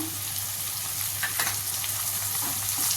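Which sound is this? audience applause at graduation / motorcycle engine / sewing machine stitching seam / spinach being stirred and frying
spinach being stirred and frying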